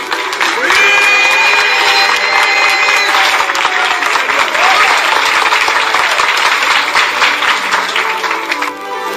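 An assembly voting by acclamation breaks into loud, sustained applause mixed with crowd voices and scattered cheers, steady and close for about nine seconds.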